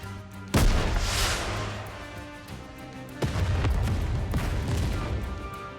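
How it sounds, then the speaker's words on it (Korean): A rocket launcher fires with a sharp blast, followed by a second heavy explosion a few seconds later, each boom decaying into a rumbling, crackling tail. "로켓 런처가 불을 뿜었습니다. 엄청난 폭발에 서로는 희뿌연 연기로 뒤덮였고"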